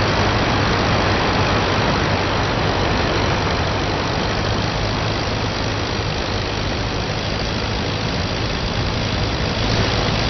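WWI aircraft engine in the Rise of Flight combat flight simulator on a German patrol in 1916, a loud, steady, unbroken droning roar heard alone throughout.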